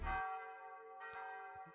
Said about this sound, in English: The evening bell.